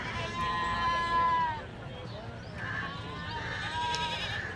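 Young rams and goats bleat at a crowded goat market in Galiveedu, Annamayya district, with several wavering cries rising above a background of crowd noise and talk.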